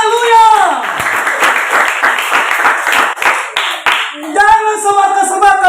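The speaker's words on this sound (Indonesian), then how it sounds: "Berikan tepuk tangan bagi Tuhan." A church congregation at a Pentecostal service claps for God in a rapid run of sharp claps, with a voice shouting and singing over the clapping before and after it.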